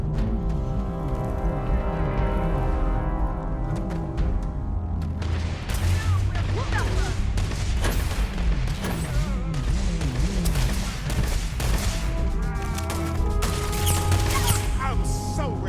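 Pistol gunfire in the sci-fi video game Starfield, dense repeated shots and booms over a steady game soundscape with music, loud and continuous throughout.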